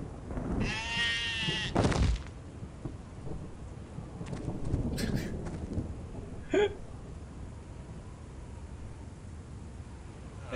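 Sheep bleating in the video game Stubbs the Zombie, a few short bleats near the start amid rumbling game ambience and a faint later call, with no talk.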